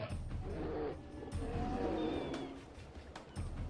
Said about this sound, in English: Their roars warn intruders to back off or prepare for battle.